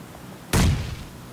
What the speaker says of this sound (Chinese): 我们扔个手雷试试